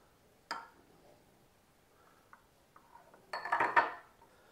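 Scooping chocolate protein ice cream out of a Ninja CREAMi pint: a single sharp scrape near the start, a few faint taps, then a louder cluster of utensil-on-container scraping and clinking near the end.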